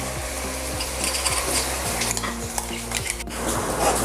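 A coarse tomato paste for a chole masala gravy hits a hot pan and is stirred, giving a close, steady sizzle under repeated scraping and clinking of a spoon against the pan.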